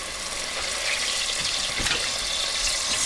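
Garlic and onion frying in a pan give a close, steady broadband sizzle that holds at an even level throughout, with a soft knock partway through.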